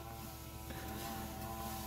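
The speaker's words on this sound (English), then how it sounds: "someone's all of a sudden decided to bloody mow the lawn or something." A lawn mower runs outside, heard through a window as a steady, fairly faint engine drone that continues without a break. No one speaks.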